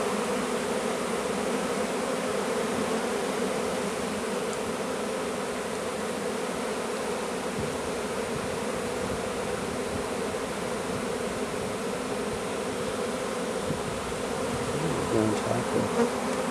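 A honey bee swarm buzzing outdoors during a capture, a dense, steady drone of countless wings filling the air at close range, unbroken and evenly loud throughout.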